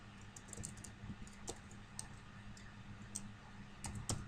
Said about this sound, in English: I've never really done this typing on screen before